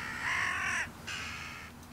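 Agitated jackdaws caw in two harsh bursts over a stubble field, the calls loud and close with a short gap between them and no talking.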